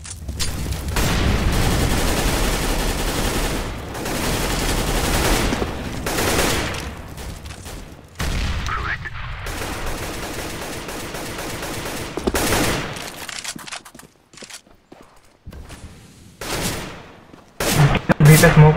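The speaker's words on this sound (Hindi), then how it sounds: "शॉटगन से खेल रहा हूँ।" Dense, sustained gunfire from CS:GO gameplay rolls on almost continuously, heavy booms and rapid bursts layered together, with a brief lull near the end before the shooting resumes loudly.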